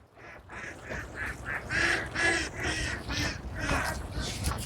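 Ducks at a duck farm give a run of loud, nasal quacks and honks, repeated in quick uneven bursts close to the listener, several birds calling over one another.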